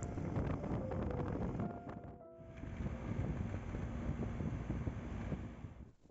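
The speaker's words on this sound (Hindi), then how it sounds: "यहाँ काफ़ी ज़्यादा हवा चल रहा तेज" Strong, gusty wind buffets an outdoor microphone at a hillside spot near a Himalayan village in Tamang, a steady loud roar with rumbling gusts and no talk.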